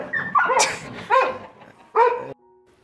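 A three-legged dog barks and yelps in short, sharp bursts while fighting, three loud close outbursts with whimpering tones between them.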